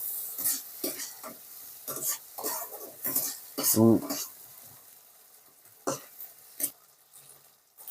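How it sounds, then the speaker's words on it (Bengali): Dried red chillies being stirred into a banana flower and prawn curry, giving scattered scraping spoon strokes against the pan over a soft sizzle, with a few louder knocks near the end. "আর দুটো শুকনো লঙ্কা দিয়ে দেবো এটাকে সুন্দর করে নেড়ে নেবো"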